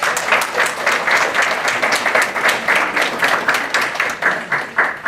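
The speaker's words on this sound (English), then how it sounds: "Let's give them a big round of applause." Audience at a North Beach town council meeting breaks into applause, a steady, fairly loud wash of many hands clapping that holds for several seconds without speech.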